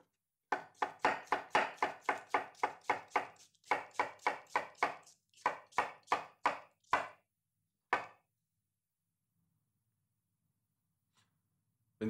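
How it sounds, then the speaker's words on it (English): A knife rocks through an onion on a cutting board in a fast, steady run of sharp chopping taps, a brief pause and a few slower cuts, then silence. "Here, I can run the knife through with a rocking motion."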